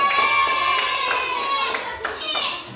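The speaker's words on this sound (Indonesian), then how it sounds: "Tepuk tangan untuk kelompok 4." Children clap in a classroom for group 4, a quick burst of overlapping hand claps mixed with excited children's voices and chatter.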